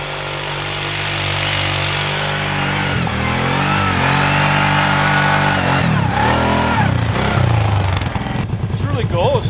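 A Kawasaki KFX 700 ATV engine revs hard during a ride, a loud, continuous droning roar that rises and falls in pitch with several throttle surges, with people talking over it.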